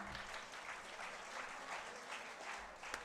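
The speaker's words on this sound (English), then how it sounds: "Can we have some great round of applause for ma'am?" An audience applauds steadily at the end of an educational talk on career aspirations in the USA: soft, even clapping that sounds distant and faint, with no voices over it.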